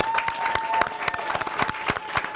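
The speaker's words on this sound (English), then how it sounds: "Now help me introduce my first set of guests on the reunion. Please make some noise for Young BossMedia, Monica, Theddy Journey," An audience at a reunion show claps steadily and cheers, a dense, continuous wash of clapping with raised voices throughout.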